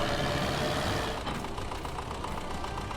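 A rough, rattling video game tractor engine drones continuously, loud and close, with a low knocking rumble and no voices, in Farming Simulator 22.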